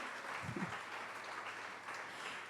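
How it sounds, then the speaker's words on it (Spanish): A church congregation applauding during a sermon, a soft, distant wash of clapping that holds steady and fairly faint throughout. "Dele ese aplauso al Señor."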